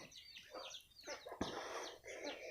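Several chickens cluck and squawk close by in short, uneven bursts, with one sharp thump partway through.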